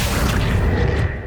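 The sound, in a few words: Confringo explosive spell in Hogwarts Legacy video game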